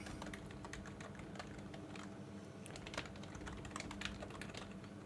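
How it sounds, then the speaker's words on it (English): Steady, fast typing on a computer keyboard fills the whole stretch, with dense overlapping key clicks at a close, even level over a faint background hum and no voices. "You'll hear me typing."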